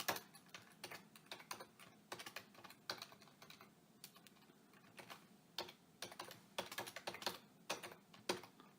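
Typing on a computer keyboard while writing HTML list code, a steady run of quick clicking keystrokes in irregular bursts with brief pauses, close and fairly quiet, with no voices.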